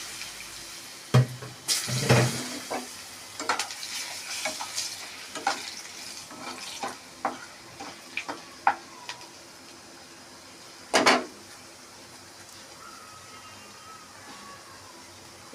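Potatoes frying in oil with black cumin in a pan: an intermittent sizzle with scattered stirring knocks and scrapes, one louder splash of sizzle partway through, otherwise fairly quiet and close.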